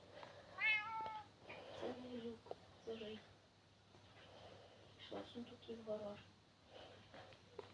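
A cat meows in the Minecraft video game, several synthetic mews in two bursts, while a person talks over and between them.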